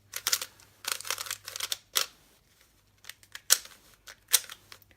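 An 8x8 speed cube is turned in bursts of rapid plastic clicking and clacking, close up, with short pauses between each flurry of moves.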